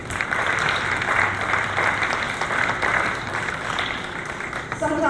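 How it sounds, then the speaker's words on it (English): Applause for veterans and first responders at an Independence Day ceremony, a dense sustained crowd clapping throughout, loud and steady. "Please join me in a round of applause."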